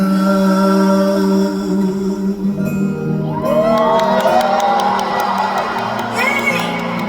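A concert audience in Macau cheers and applauds, a dense, loud crowd roar full of whoops and shouts that starts over the end of a sung melody and carries on after the music fades, with some voices above it.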